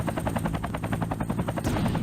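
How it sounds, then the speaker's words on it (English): Helicopters in the mech combat game MechWarrior 3, a steady rapid rotor chop pulsing evenly throughout, loud and close over a low rumbling engine bed. "There's those helicopters."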